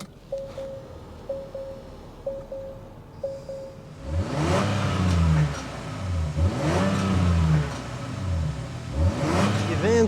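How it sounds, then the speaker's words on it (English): A 2024 Acura MDX Type S starts up, its engine catching after a few cranking chirps, then revs repeatedly with a deep, swelling exhaust note, each rise and fall distinct and close by. "so you can hear that exhaust note."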